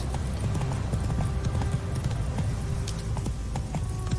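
Horse hooves trotting in The Witcher 3, a steady rapid clip-clop close up and continuous, with no other sounds over it.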